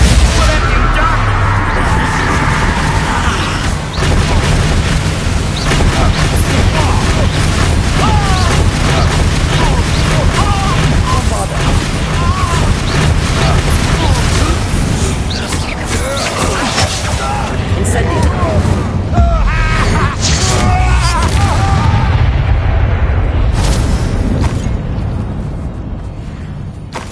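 Repeated explosive Bombarda spell blasts and fiery casting in the Hogwarts Legacy video game, dense and loud throughout, layered over continuous music and game ambience with a voice present.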